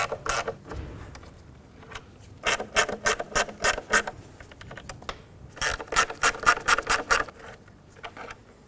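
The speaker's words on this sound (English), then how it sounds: "Now let's unbolt the fuel rail from the intake" A ratchet wrench backs out the four 10mm fuel rail screws on a 1997-2003 Ford F-150 intake manifold, giving close bursts of rapid clicking in several separate runs with short pauses between them.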